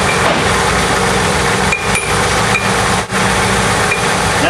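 A GM 3.8 engine runs with a repetitive internal clunking knock, loud and steady, with brief dips as the engine note changes.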